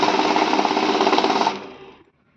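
A refurbished mixed-value currency note counting machine whirs with a rapid, even mechanical flutter as notes feed through, loud and close, then winds down and stops in the last second.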